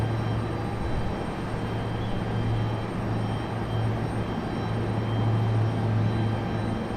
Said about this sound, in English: Here we go, our second FedEx ATR of the night.